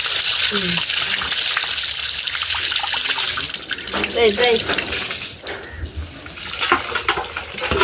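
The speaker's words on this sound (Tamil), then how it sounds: "திருப்பி தண்ணி ஊற்ற போறீங்களா?" Water gushes from a tap into a sink for washing in a home kitchen, a loud steady pour that breaks into splashes and trickles while people talk over it.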